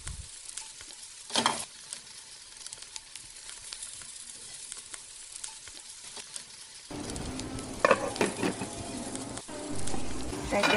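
Zucchini stir-frying in a pan, a steady crackling sizzle throughout with a few louder stirring scrapes, the frying growing fuller and louder in the second half.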